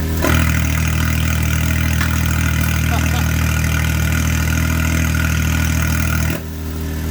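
A loud, deep Can-Am X3 engine idles with its exhaust actuator open, a steady throaty exhaust rumble close to the microphone, then cuts off abruptly near the end.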